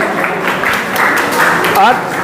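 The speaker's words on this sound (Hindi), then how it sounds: "थोड़ा ताली बजाइए इनके लिए" A seated audience at a talk on education claps briefly for a student, a short burst of applause blended with a voice and some tonal sound over it.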